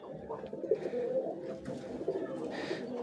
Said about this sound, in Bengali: দেখেন কত সুন্দর কবুতরগুলো।